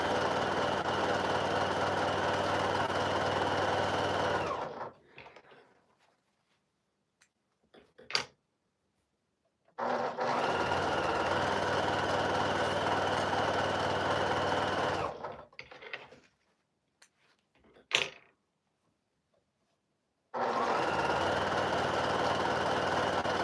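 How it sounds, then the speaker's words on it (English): A sewing machine stitches along both sides of a drawn line on a quilt block, running in three long steady bursts separated by quiet pauses with small handling clicks. "now we are going to sew on both sides of that line"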